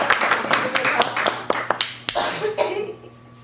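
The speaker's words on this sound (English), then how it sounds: "so if you want to do an applause now." A handful of people clapping at a school board budget meeting, scattered individual claps that thin out after a few seconds, with a faint steady hum underneath.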